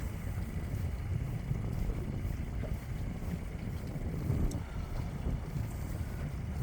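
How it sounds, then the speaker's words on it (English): Steady wind noise buffets the microphone on an open boat while fishing for lake trout, a continuous low rumble with faint water and hull sounds and no talk. "That wind's blowing"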